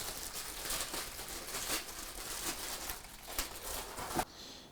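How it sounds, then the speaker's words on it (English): Packaging around video lighting equipment is unwrapped up close, a quiet run of crinkling, rustling plastic and paper with small crackles, ending in a brief tear before it falls silent. "So if you want to start unwrapping some stuff."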